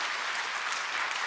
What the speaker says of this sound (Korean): 여러분 우리 권사님 큰 박수로 보내드립시다.